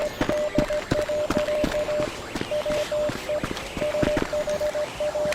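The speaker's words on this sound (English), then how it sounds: "if you visit the Rebel Radio building at night and stand right under the radio tower, you will hear this weird beeping sound." Rhythmic Morse code beeping from beneath the radio tower at the Rebel Radio building at night in a GTA game, a steady high tone keyed in short and long pulses over a dense, noisy background.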